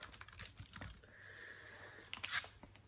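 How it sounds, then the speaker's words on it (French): Quick bursts of keystrokes on a computer keyboard typing search words, soft close clicks in two short runs separated by a brief pause, with no talk. "je vais taper poche et fermeture"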